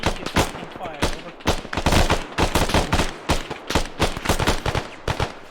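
Rapid automatic gunfire in the military shooter ArmA, dense bursts of shots crackling one after another at close range, loud and continuous throughout.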